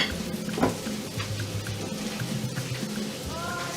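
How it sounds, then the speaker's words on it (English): Crushed garlic sizzling in melted butter in a pan for king prawn skewers, a steady close hiss with a few louder crackles and a sharp tap, with faint low sounds underneath. "So this is my butter cooking, and I'll add my garlic"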